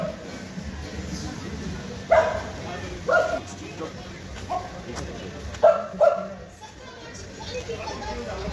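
Dogs bark about five times, sharp separate yips spread over several seconds, with people chattering in the background, on the road from NJP to Upper Pelling in Sikkim.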